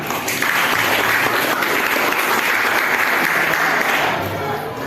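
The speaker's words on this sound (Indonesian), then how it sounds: "Tepuk tangan." Sustained applause from a group, steady and fairly loud for several seconds, fading slightly at the end.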